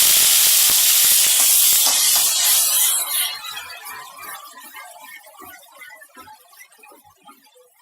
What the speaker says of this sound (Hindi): तेल गरम हो गया है, इसमें सबसे पहले प्याज डाल देते हैं।